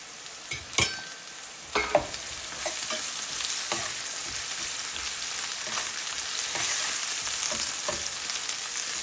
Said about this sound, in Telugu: ఆనియన్ ఇలా బాగా ఫ్రై అయిన తర్వాత అల్లం వెల్లుల్లి పేస్ట్ వేసుకున్నాను